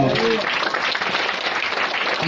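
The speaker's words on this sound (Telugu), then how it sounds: "గట్టిగా చప్పట్లు కొడదా" A Pentecostal church congregation claps loudly and continuously, a dense wash of hand claps filling the hall with steady intensity from start to finish.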